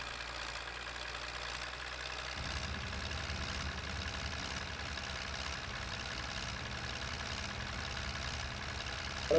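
A tractor in the farming game Farming Simulator 15 idles with a steady low mechanical drone, the engine note thickening after a couple of seconds and holding evenly to the end, with no voices over it.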